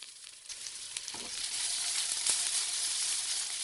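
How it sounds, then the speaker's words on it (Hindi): Finely chopped onion goes into hot refined oil already holding cumin, a bay leaf and asafoetida, and a soft crackle swells into a steady, close, bright sizzle that continues to the end. "इसमें हम डालेंगे बारीक कटा हुआ प्याज।"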